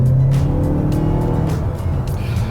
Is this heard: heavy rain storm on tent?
no